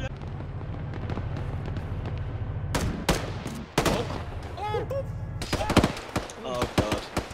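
Video game gunfire, a steady low rattle of automatic fire with sharper close shots breaking in midway and toward the end, mixed with other battle noise and shouting voices.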